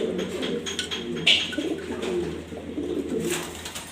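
Soft, continuous cooing of several pigeons, including Checker and Mili breeds, rolls on throughout, close by, with a brief higher chirp near the middle.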